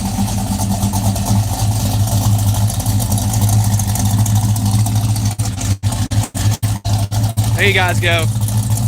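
A Dodge Charger engine idles and runs steadily with a low rumble, flooding from excess fuel pump pressure with no choke, then stumbles and cuts in and out in a series of sharp drops; a person speaks briefly near the start.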